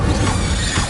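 A dense, roaring whoosh of flame bursts out continuously for about a second, loud and close, as the Incendio fire spell is cast in the Hogwarts Legacy video game.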